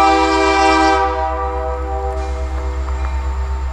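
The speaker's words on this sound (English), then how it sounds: "the Q601 starts pulling toward the west end switch" A Q601 freight train pulls toward the west end switch, its horn sounding a loud sustained blast for about a second before fading into a steady droning tone over deep, rumbling low engine noise.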